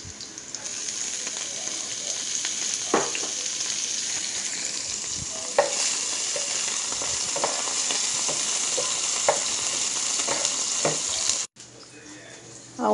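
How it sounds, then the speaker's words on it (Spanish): Rice with asparagus and sausage sizzles steadily in a pan as chopped cilantro goes in, a constant frying hiss broken by occasional utensil clinks and stirring, ending with a sudden drop in the sizzle. "Ahora le voy a agregar el cilantro ya picadito."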